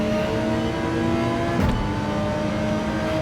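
Race cars accelerate together at a race start on the Goodwood circuit in Gran Turismo 7, a steady loud engine drone with a brief burst of extra roar partway through, heard alone without talk.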